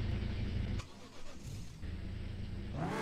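A car engine in the video game Car For Sale Simulator 2023 rumbles steadily, dips briefly, then resumes its low drone before rising toward a rev at the end.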